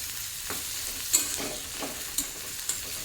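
Onions fry with garlic and drained flat beans in a pan, giving a steady close sizzle broken by short scraping stirs roughly every half second to second, with no talking.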